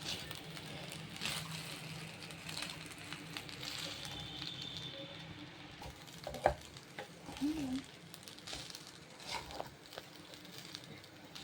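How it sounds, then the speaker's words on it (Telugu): Curry leaf rice is stirred in a frying pan over low heat, giving a soft continuous sizzle with scraping and patter of the stirring, faint and steady throughout. "ఇలా ఒక 5 నిమిషాలు సిమ్లో పెట్టి మంచిగా కలుపుకుంటూ బాగా కలిసేలాగా కలుపుకోవాలి"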